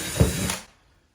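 A short, loud burst of a power drill whirring into a wall, lasting about half a second before stopping.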